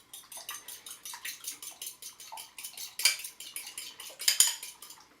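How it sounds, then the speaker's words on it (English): Two eggs are beaten quickly with a utensil in a bowl while baking chocolate cookies, giving a rapid run of light clinking, tapping strokes that are close and fairly quiet, with a couple of sharper knocks near the end. "I have my 2 eggs, which I'm going to beat real quick."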